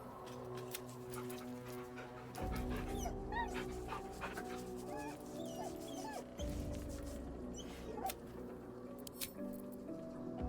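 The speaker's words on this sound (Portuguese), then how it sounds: "Vamos carinhar um cachorro." A dog being petted in the fantasy role-playing game Baldur's Gate 3 whimpers and yips softly in short high squeaks, layered over a low sustained music bed and light clinks.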